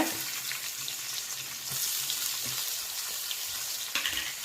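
Mustard seeds, garlic and onion frying in hot oil in a pan for basale sukka, with a steady close crackling sizzle and occasional stirring clicks.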